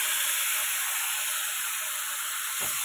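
Black cumin (kalo jeere) frying in a pan, giving a steady, even hiss that holds throughout, with a brief soft thump near the end.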